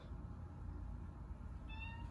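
A domestic cat gives one short, faint meow near the end, heard over a low, steady background hum in a quiet indoor room.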